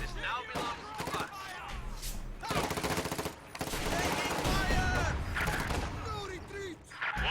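Machine gun fire in the strategy game Company of Heroes 2 rattles in rapid bursts among other battle noises and explosions, partly under a commentator talking throughout.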